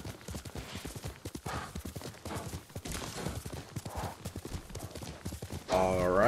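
Fast, rhythmic hoofbeats of a galloping horse in Ghost of Tsushima pounding continuously, close and loud, ending with a rising tonal swell.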